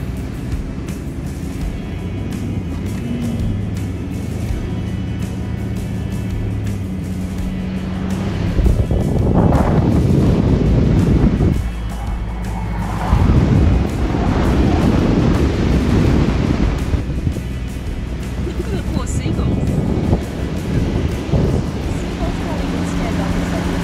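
Strong wind buffets the microphone in loud, gusting roars over a vehicle engine's rumble on soft beach sand at Seal Rocks, with voices talking intermittently underneath.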